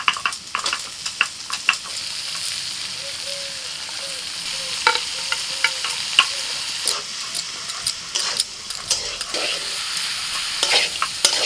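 Tender bottle gourd fries in a pan with cumin, ginger paste, salt and turmeric while a spoon scrapes and stirs. A steady sizzle runs under repeated close scraping and tapping, with no voice.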